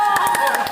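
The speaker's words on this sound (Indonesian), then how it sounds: "Tepuk tangan." Classmates clap in a classroom during a sociology lesson: a quick run of close, sharp hand claps at a steady rhythm, with a voice speaking over them.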